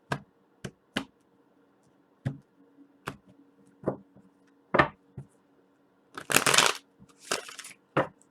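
Tarot cards being shuffled by hand indoors, giving sharp isolated taps and snaps of the deck followed by a couple of longer riffling bursts near the end, close and fairly quiet with no talk.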